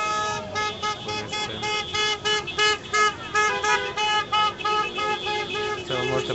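Car horns from passing cars honk repeatedly beside a road, a dense run of toots and longer blasts of varying pitch rising and falling over steady traffic noise, loud and close, with no talking.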